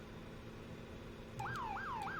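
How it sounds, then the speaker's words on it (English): A Ford F-250 fire truck siren in Farming Simulator 17 starts up after a quiet moment and sweeps in a rapid repeating wail, loud and close over a low engine hum. "We'll be using our sirens here at intersections"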